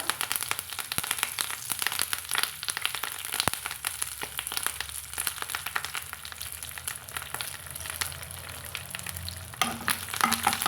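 Coriander seeds and curry leaves fry in oil for a pirandai chutney, a dense, continuous crackling sizzle close by with sharp pops throughout and no voices.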